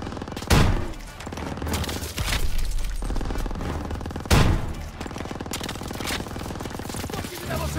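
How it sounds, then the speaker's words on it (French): Machine gun fire in Call of Duty WWII rattles in long continuous bursts, loud and near, punctuated by two sharp heavy shots, with French-speaking soldiers shouting orders over the din of a street battle. "Mitrailleuse, restez pas dans la rue!"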